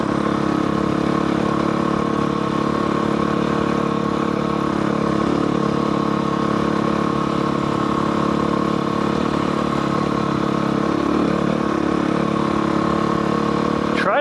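A motorcycle rides up a rough canyon road, its engine a steady mid-pitched drone with wind and road rumble underneath, loud and continuous throughout.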